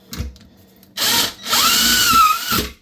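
A power drill drives a self-tapping screw into a pottery wheel while casters are fitted: a short whir, then a longer loud run that rises in pitch as the screw bites, close to the microphone.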